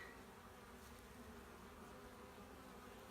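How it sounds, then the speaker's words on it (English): Honey bees buzz steadily over a hive frame during a colony inspection, a close, continuous drone with no voices. "But there are some bees working on it."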